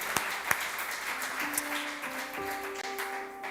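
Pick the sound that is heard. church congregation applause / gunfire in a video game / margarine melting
church congregation applause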